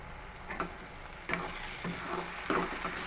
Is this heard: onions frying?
yes